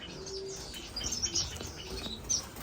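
Pet finches, a saffron orange-cheeked waxbill and an Indian silverbill hen, give faint, thin high chirps and brief tweets scattered over a soft room-level background, with a few sharper calls near the end.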